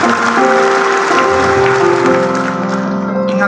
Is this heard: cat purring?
no